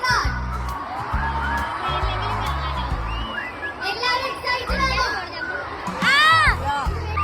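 A crowd waiting for a rapper at the Palakkad fort ground in Kerala shouts and cheers, with children's voices and whoops rising above a steady murmur. Loud music thumps throughout, and a burst of louder cheering comes near the end.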